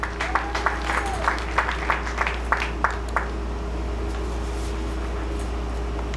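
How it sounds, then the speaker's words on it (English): Sparse clapping in a large room at a high school athletic awards ceremony, around a dozen scattered claps over the first three seconds, fading out over a steady hum of ventilation. "Come on, let's give them a big round of applause"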